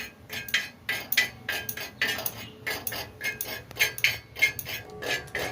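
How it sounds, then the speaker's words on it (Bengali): Spoon repeatedly scraping and clinking against a metal pan while turmeric is stirred and roasted, a steady rhythm of bright metallic knocks close up. "আমি এখানটায় হলুদটাকে নাড়াতে নাড়াতে পুড়িয়ে নেব"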